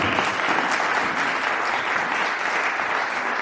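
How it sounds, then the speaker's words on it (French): A church congregation at the inauguration of Parole du Salut in the Netherlands claps together in sustained, even applause that fills the hall from start to finish. "Acclamons pour lui."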